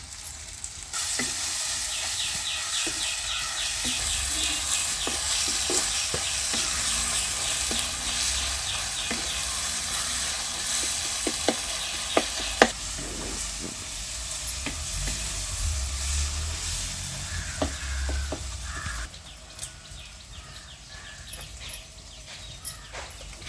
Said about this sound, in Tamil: வெங்காயம் தக்காளிலாம் நல்லா வதங்கட்டும்